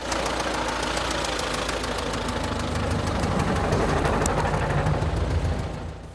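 A tractor engine churns continuously as it crosses swampy, windfallen taiga forest with no roads, a loud, close, knocking drone with a steady rhythmic pulse that fades slightly at the end.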